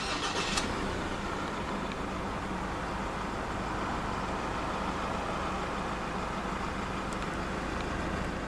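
A 2014 Mazda BT-50 2.2 4x4 double cab pickup starts up, its engine settling into a steady, even idle that runs throughout, with a couple of faint clicks near the start.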